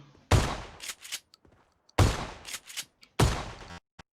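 Pump shotgun fire in the PUBG Mobile battle royale game: three loud, sharp blasts spaced about a second and a half apart, each followed by a brief metallic rattle and short echo.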